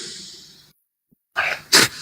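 A single sneeze comes after a short silence: a sharp intake of breath and then a loud, explosive burst, close up.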